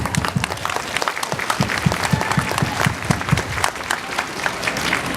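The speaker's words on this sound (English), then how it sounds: "we should clap." Audience applause at a summit, dense and steady throughout, with sharp individual claps standing out near the front of a large clapping crowd.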